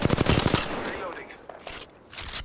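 Close automatic gunfire in Apex Legends, a quick rattling burst at the start and then scattered shots and impacts, with game voice lines partly overlapping.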